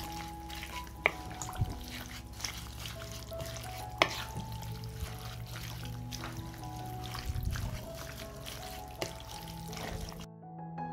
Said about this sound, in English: I'll mix it all up.